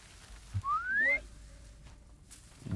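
A single rising whistle sounds in the video game Horizon Zero Dawn, clear but brief and fairly quiet, over faint game ambience.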